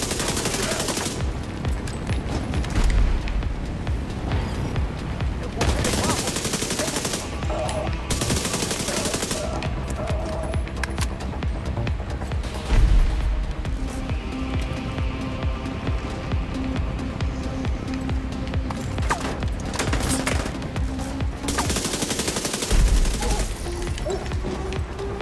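Sustained gunfire from The Division 2: Warlords of New York, with bursts and volleys running through the scene, several loud broadband cracks standing out, and a continuous game soundscape underneath.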